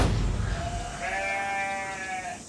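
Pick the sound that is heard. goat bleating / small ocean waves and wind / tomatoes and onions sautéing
goat bleating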